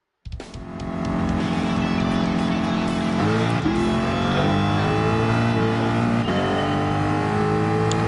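Ford Mustang styled as Barricade from Transformers, driven in a video game: a steady, loud engine drone that climbs in pitch as it revs and shifts gears, continuous and close throughout.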